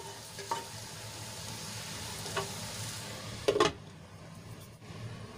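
Okra (bhindi) coated in peanut-sesame masala frying in a pan, a soft steady sizzle close by with a few brief clinks and scrapes of stirring, otherwise quiet and with no talking.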